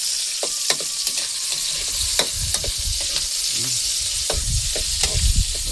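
Onions frying and being stirred in a pan over a wood fire, a steady close sizzle broken by frequent scraping and clacking stir strokes, with no talking.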